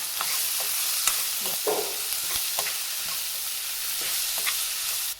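Onions and tomatoes fry with salt in a pan for chutney, a loud, even sizzle broken by soft stirring scrapes and light pops.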